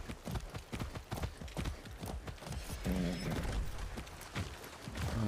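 Hooves clip-clop steadily as a horse is ridden in Far Cry 6. The footfalls are rhythmic and fairly quiet, with a faint bed of game ambience underneath.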